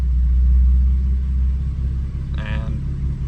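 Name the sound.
BMW F80 M3 engine running while warming up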